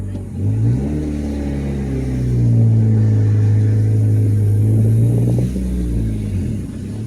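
A boosted Honda Accord drives off on the road, its engine rumbling steadily and rising into a louder, sustained drone as it accelerates, then easing back slightly near the end; no talking.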